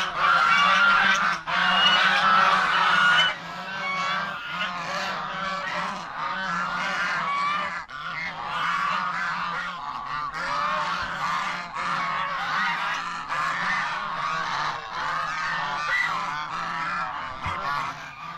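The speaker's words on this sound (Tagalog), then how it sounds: "Yung mga gansa natin nasa 16 heads." A flock of about 16 farm geese honks continuously and loudly, overlapping calls filling the air close by with no pauses.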